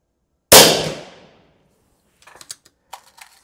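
An air rifle fires without a silencer: one sharp, loud crack that rings and decays over about a second, followed by faint mechanical clicks and handling noises.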